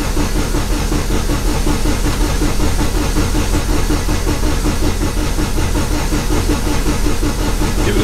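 A freshly rebuilt car engine runs steadily close by, a loud continuous rumble with rapid regular firing pulses and a hissy edge, with no voices over it.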